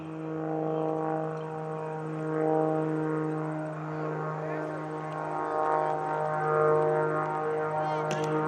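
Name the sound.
aerobatic propeller airplane flying at an airshow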